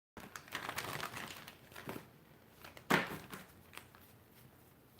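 Tarot cards being shuffled close by, heard as soft, irregular papery riffles, taps and crinkles with one sharper snap midway. The sound is quiet overall.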